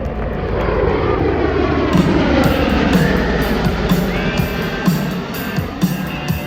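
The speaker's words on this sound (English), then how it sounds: "the MV22B Osprey from your Marine Corps" An MV-22B Osprey tiltrotor of the Marine Corps flying at an air show, a loud continuous engine and rotor roar with a steady throbbing drone that holds close and strong throughout.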